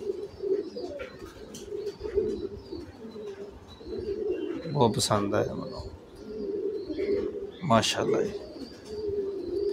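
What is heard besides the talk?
pigeons cooing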